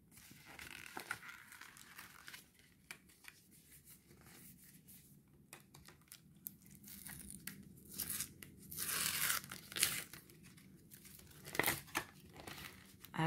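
Paper envelope from a Cricut Joy box being opened, with soft intermittent crinkling and tearing rustles close by, quiet and irregular, some louder bursts near the end.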